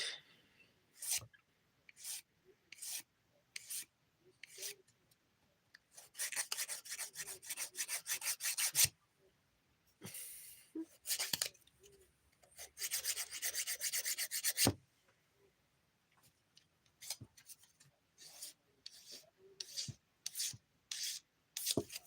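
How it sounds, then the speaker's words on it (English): A nail file works across a thumbnail in short, close scratchy strokes, some single and quick, others in rapid bursts of several seconds, quiet and separated by brief pauses. "Hate filing my thumb."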